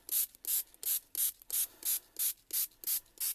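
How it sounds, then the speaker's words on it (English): A handheld sprayer mists paint onto a beach-themed craft canvas in about eleven evenly spaced, close hissing bursts, each a quick pump-and-spray, with no talking. "and then we're going to go in with our sprayer"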